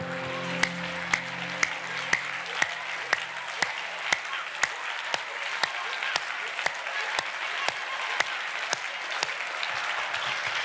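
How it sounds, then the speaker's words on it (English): A church congregation claps hands vigorously in unison, with sharp, evenly spaced claps about every half second over a constant crowd-noise bed. A brief musical tone is heard at the start. "As I clap my hands vigorously, I smash them. Clap your hands."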